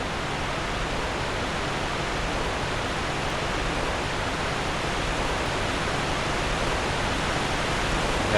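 A waterfall rushes in a Dark Souls 2 game scene, a steady dense hiss of falling water, constant and fairly loud with no other sounds.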